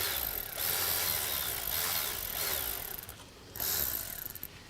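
A Milwaukee power tool works a nut loose beneath a Ford Edge with a 3.5 Duratec engine, giving bursts of whirring, rattling mechanical drive that pause briefly and start again, close and fairly loud.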